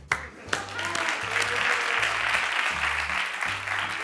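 An audience at a live comedy monologue in Zaragoza breaks into dense, sustained applause, a bright wash of many hands filling the room, with a low hum running beneath.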